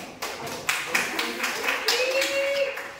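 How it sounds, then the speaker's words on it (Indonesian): A class of students claps hands together in a classroom, a scattered burst of several sharp claps over about three seconds, with a voice speaking over part of it. "sebelumnya semuanya tepuk tangan dulu nih"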